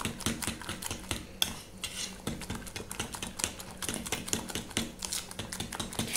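Quick, uneven clicking and scraping of batter being stirred in a bowl, a busy rhythmic patter with brief pauses, close and fairly quiet.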